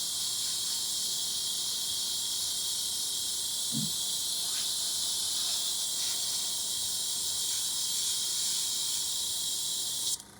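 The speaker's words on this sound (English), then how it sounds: "you just have to be constantly moving your airbrush" An airbrush sprays paint in a continuous, even hiss that holds steady for about ten seconds and then cuts off abruptly near the end, with no talking.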